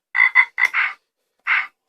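A frog croaks in short bursts, several quick raspy calls in a cluster, then a pause and a couple more, close and clear against silence.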